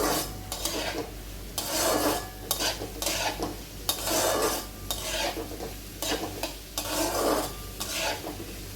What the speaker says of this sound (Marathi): कांदा चांगला लाल होईपर्यंत परतायचा आहे.